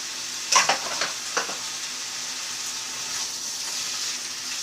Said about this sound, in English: I just want to lightly saute my sweet potatoes